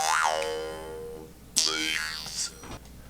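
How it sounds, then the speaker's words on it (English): An Indonesian style jaw harp twangs with a buzzy, vocal-like tone whose pitch sweeps and wobbles in swooping formant glides, with a brief stronger pluck midway, close and moderately loud. "this is an Indonesian style jaw harp"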